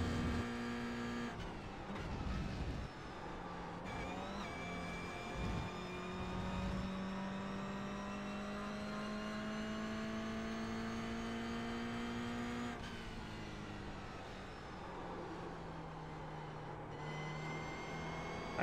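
A Toyota GR 86 laps the Red Bull Ring circuit, its engine droning steadily from inside the car as the pitch climbs through long pulls and drops at gear changes, with wind and road noise beneath and nobody speaking.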